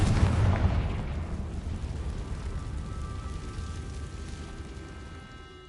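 Confringo spell explosion in the Hogwarts Legacy video game, a single deep booming blast at the start that rumbles and decays slowly over several seconds, moderately loud, no voices.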